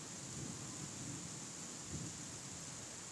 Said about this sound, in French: Et ça gronde. Il commence à pleuvoir.